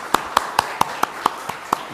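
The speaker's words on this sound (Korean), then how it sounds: "격려 박수 하겠습니다." A few people at a Saturday revival service give a short round of applause for the church choir. It comes as sparse, evenly spaced claps in a steady rhythm, fairly close and clear, with no talking.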